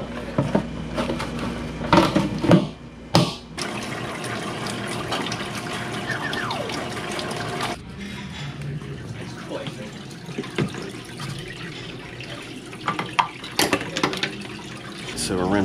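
Water runs and splashes steadily through the trough of an ice machine during a rinse after disinfecting, a close broadband rush with brief clanks and bumps, and someone talks over parts of it.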